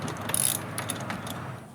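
A ratchet clicks rapidly while loosening a bolt on a 1998 Ford Ranger, close metallic pawl ticks in quick runs with light mechanical rattle, no talking.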